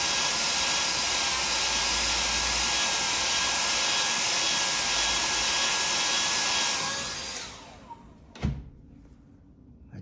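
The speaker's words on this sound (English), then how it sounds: "I think I'll just hit it with a hairdryer." A handheld hairdryer blows steadily on a watercolor painting with an even whooshing hum, then switches off near the end with a brief clunk before near silence.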